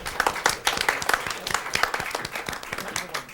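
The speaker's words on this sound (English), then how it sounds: "I have a big round of applause for every one of you" Audience delivering a round of applause, a dense patter of distinct claps from a moderate crowd, steady and fairly close throughout.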